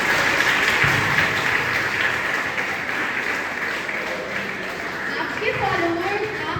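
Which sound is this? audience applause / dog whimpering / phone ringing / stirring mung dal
audience applause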